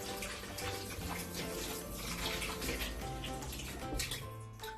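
Water runs steadily from a tap for a flour paste for vegan hot cross buns, a continuous close splashing stream with no talking.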